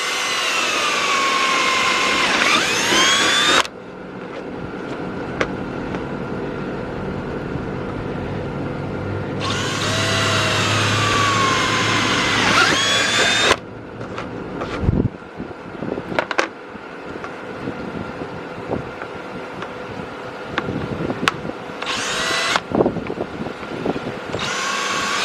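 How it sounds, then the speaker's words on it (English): Jigsaw cutting through a carbon fiber license plate holder, loud high-pitched buzzing bursts that start and stop several times, separated by quieter pauses with handling knocks. "That way we can gently cut out the center section with the jigsaw."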